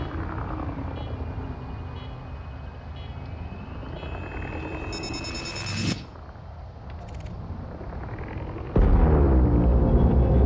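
A mining charge detonates on an asteroid in Elite Dangerous, starting as a steady rumbling hum with electronic tones and beeps, then breaking into a loud, deep blast near the end.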